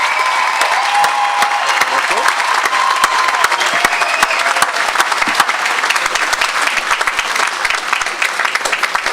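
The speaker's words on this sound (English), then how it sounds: "Please, everyone, one more round of applause for the class of" Large outdoor commencement crowd applauding steadily for the law school graduating class, a dense continuous wash of clapping with faint cheers mixed in throughout.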